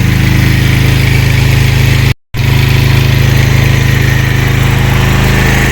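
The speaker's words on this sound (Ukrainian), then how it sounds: "Підключив зараз генератор, зараз поверну, покажу, що він вирішує" A petrol generator converted to run on mains natural gas drones loudly and steadily at close range, with a deep even engine hum and one abrupt brief dropout partway through.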